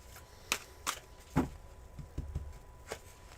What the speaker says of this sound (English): I didn't do a cleansing shuffle yet, so I have to do that.